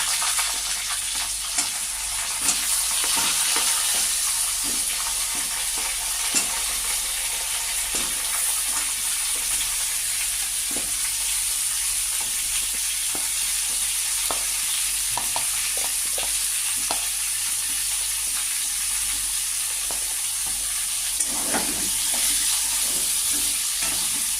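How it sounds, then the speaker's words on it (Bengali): Potatoes and pumpkin frying with reddened onions in a pan over low heat for a mixed vegetable curry with prawns, a loud continuous close sizzle with occasional scraping and stirring clicks, no talk. "এবার আমি আঁচটা ঢিমে করে আমি আলু আর কুমড়ো দিয়ে দেবো"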